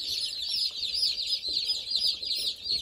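A flock of chickens on a farm with new chicks clucks and chatters continuously nearby, overlapping calls forming a busy, steady stream with no speech.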